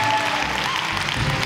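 Loud, dense applause and cheering from a church congregation in Cartagena, a continuous close roar of clapping filling the whole moment.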